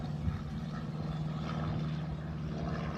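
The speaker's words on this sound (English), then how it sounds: "I hear a plane going over." A propeller airplane passes overhead outdoors, a steady low droning rumble that holds at a fairly even, moderate level throughout with no talking.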